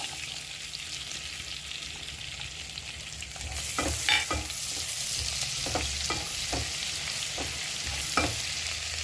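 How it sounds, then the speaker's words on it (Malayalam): Finely chopped garlic frying in melted butter with a little oil, prepared for a creamy white sauce pasta; a soft steady sizzle grows louder midway, broken by several sharp spatula taps and stirring scrapes. "ബട്ടർ ഉരുകി തുടങ്ങുമ്പോൾ നമുക്ക് ഫൈൻലി ചോപ്ഡ് ഗാർലിക്,"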